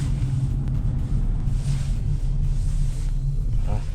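A car drives by with a low, steady engine rumble and road noise that stays constant throughout, heard from close by.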